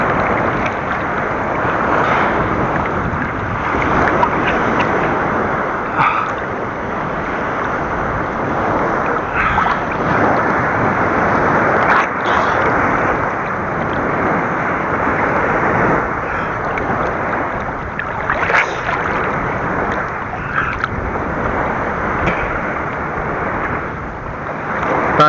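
Steady rushing roar of sea waves at a beach during a short vacation, continuous surf and wind noise buffeting the microphone with no talk, holding at an even level throughout.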